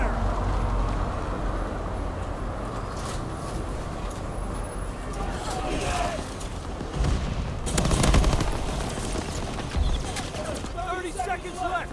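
Video-game gunfire crackles in repeated bursts through a team shooter match during a charity stream, with heavier clusters of shots midway and near the end, layered under ongoing game noise and voices.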